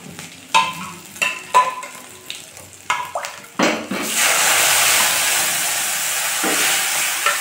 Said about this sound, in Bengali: আমি এখানে শুধু আদা আর শুকনো লঙ্কা দিয়ে একটু নেড়ে আমি এখানে ডালটা ঢেলে দেব